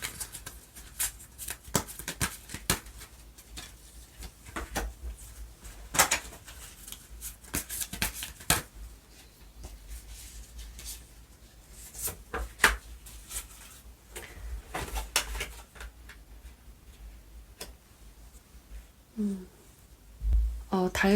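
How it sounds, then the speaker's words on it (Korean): Tarot cards are shuffled and drawn by hand, producing soft riffling and sharp flicks in irregular bursts with quiet pauses between them, and no talking. "그렇다면 2번 분들의 달 카드와 그리고 천사의 조언 카드 뽑아볼게요"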